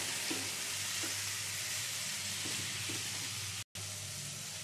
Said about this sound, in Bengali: ওল ডাটা দিয়েও আবার একটু ভেজে নিতে হবে।